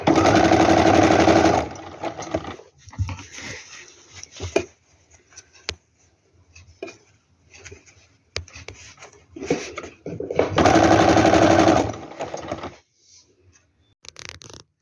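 An electric sewing machine stitches a pocket and strip onto a ladies' coat made from a reused shawl, running in two loud, steady bursts near the start and later, with quieter handling and fabric rustle in between.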